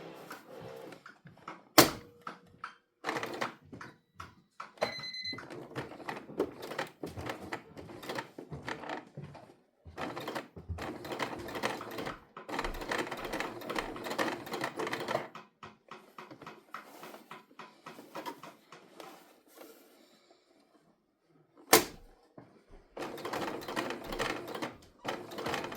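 Hand-cranked sewing machine stitching a tote bag, its gears and needle mechanism clattering in bursts of rapid ratcheting with short pauses and sharp clicks between runs, close up with no voices.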